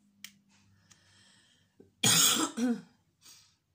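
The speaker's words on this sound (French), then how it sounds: "Je suis désolée, je tousse." A woman with a bad cold clears her throat and then lets out a couple of harsh, close coughs, with a quieter cough trailing after.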